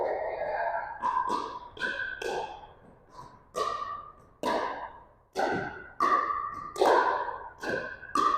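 Tennis balls struck with low ground strokes and volleys, giving a series of sharp, ringing hits with short bounces between them, at a fairly steady pace and moderate distance.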